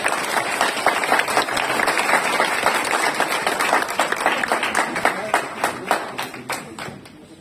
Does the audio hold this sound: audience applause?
yes